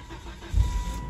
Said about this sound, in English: So I'm gonna start the car right now.